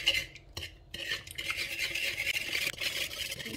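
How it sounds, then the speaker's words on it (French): Greek yogurt being stirred in a bowl at the start of a no-knead brioche dough, with soft scraping and clinking of a utensil against the bowl, close and fairly quiet, brief pauses between strokes. "Dans un premier temps, je vais mélanger."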